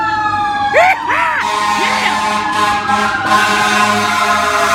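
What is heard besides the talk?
fire engine responding with siren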